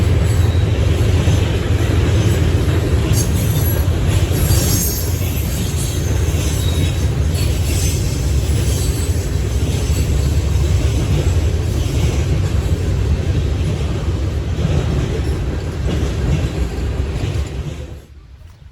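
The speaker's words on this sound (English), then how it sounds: "Norfolk Southern 32N would make an appearance, with the GEVO leading and a BNSF GEVO second" Norfolk Southern mixed freight train 32N rolling past at close range, led by GE Evolution locomotives with a BNSF unit second; a loud, steady roar of wheels and railcars fills the whole stretch before fading abruptly at the end.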